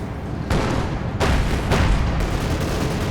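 A KV-8 tank firing in Company of Heroes 2, three loud booming shots spaced about a second apart, each with a sharp crack and rumbling tail over a steady battlefield din.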